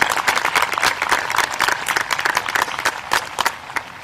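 Audience applause at a 2023 school graduation ceremony: dense, steady clapping from many hands, fairly close and sustained for several seconds with no clear talk over it.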